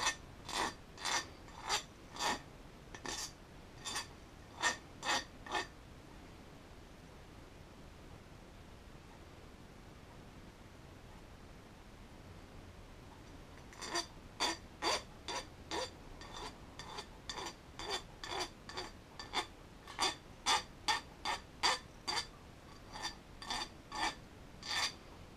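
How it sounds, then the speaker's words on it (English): A hand file rasps across the corners of a metal replacement lid for a canteen cup in short, sharp, evenly spaced strokes. One burst of strokes comes first, then a long pause, then a longer run of repeated close scrapes. "I'm going to take a file to this."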